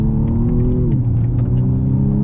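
A BMW M235i Gran Coupe pulls hard on a national speed limit road, its engine droning loudly from inside the cabin and stepping down in pitch at a gear change before climbing again.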